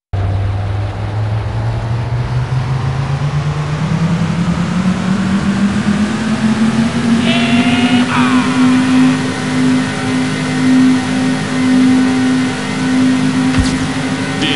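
Loud car engines in the City Racing 3D video game rev steadily and climb in pitch for about fourteen seconds, with a brief higher engine layered in partway through and no talk.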